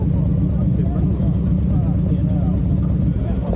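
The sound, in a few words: loud car exhaust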